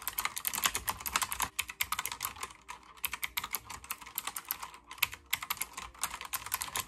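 Rapid clacking of a computer keyboard fitted with wrist stands, keys struck in quick irregular bursts with brief pauses, close and clear with no talk.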